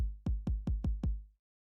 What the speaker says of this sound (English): Fruity 20 has a basic 808 kick.